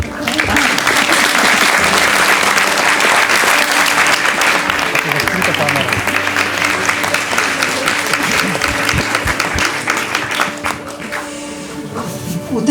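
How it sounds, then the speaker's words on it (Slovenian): An audience in a cinema hall gives loud, sustained applause for the actors, dense and close before fading out near the end, with voices heard alongside. "da vstanejo, saj se zaslužijo en aplavz"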